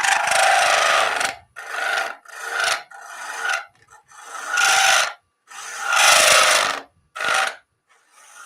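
A small spindle gouge cuts into wood on a lathe to open up a hole, producing a series of loud, close rasping scrapes in separate bursts with short pauses between them, without any talk.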